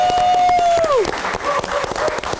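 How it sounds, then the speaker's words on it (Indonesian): Studio audience applause at a live entertainment show, a burst of clapping under a fading musical tone that drops away, then continuing scattered claps with a few faint voices. "Boleh tepuk tangan sekali lagi."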